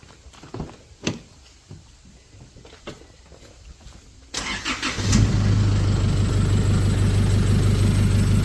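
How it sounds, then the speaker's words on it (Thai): A car engine cranks and fires after a few scattered clicks and knocks, then settles into a loud, steady idle that runs to the end. "ติดเครื่องแล้วเราก็อุ่นเครื่องไว้ประมาณสัก 5 หรือ 10 นาทีนะครับ"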